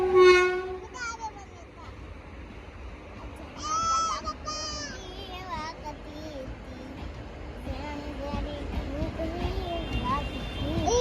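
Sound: train passing at railway station

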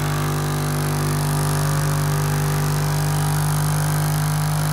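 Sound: generator running with Adams pulse motor

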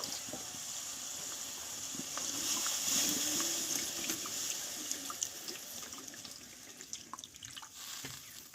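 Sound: pouring water into the pan

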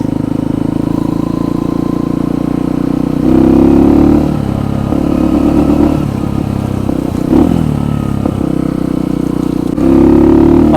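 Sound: Kuba Race 125 motorcycle accelerating

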